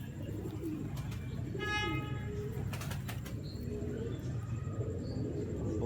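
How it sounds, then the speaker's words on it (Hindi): A dub breed pigeon coos steadily amid outdoor background noise, with a brief harmonic call and faint flapping partway through. "ये डब वाला कबूतर है"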